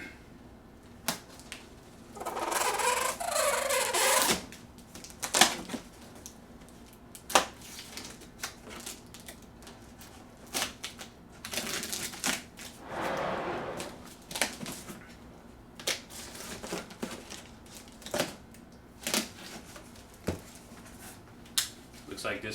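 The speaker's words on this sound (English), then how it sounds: "Let's go ahead and unbox this bad boy." Cardboard packaging for a Sideshow War Machine maquette statue is handled and opened up close, with crinkling, tearing and scraping bursts and scattered taps, and a person talks quietly between the noises.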